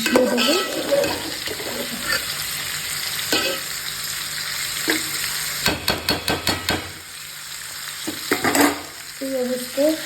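Biryani-style pulao is stirred and mixed in a pan, a soft sizzle beneath a rapid run of metal spoon knocks and scrapes against the pan's sides, with a brief voice near the end.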